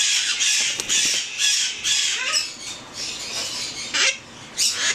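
A pet bird squawks repeatedly, harsh raspy calls coming in short bursts with brief gaps, loud and close, with no talking over them.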